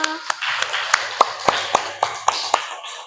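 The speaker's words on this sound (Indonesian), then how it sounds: "Tepuk tangan untuk kita semua." Children in a classroom clap together in a loose rhythmic pattern, about ten distinct claps in a few seconds, close and clear, with voices murmuring underneath.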